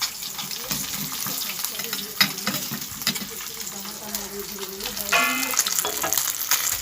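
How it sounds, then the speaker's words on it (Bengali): Pabda fish frying in hot oil in a home kitchen, a steady close sizzle and crackle with occasional stirring clinks and a brief watery splash near the end, no talking. "দিয়ে আমি ভালো করে ভেজে নিচ্ছি এই পাবদা মাছগুলো"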